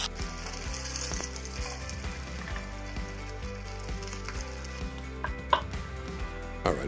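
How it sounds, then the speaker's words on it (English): A potato cake sears in a hot pan with compound butter nearby, giving a steady close sizzle and crackle throughout, broken by a few louder pops and clinks near the end, with no voices. "And drop it in for the sear."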